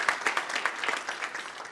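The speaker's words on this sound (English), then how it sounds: "Another hand clap for Lady Justice Omondi." Light clapping from a university ceremony audience at a law programme launch, a thin, fairly quiet patter of separate hand claps with a loose rhythm that stays close and steady throughout.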